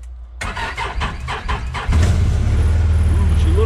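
A car engine starting on the first try in the cold: a short run of rhythmic starter cranking, then the engine catches and settles into a loud, steady idle with a faint whine.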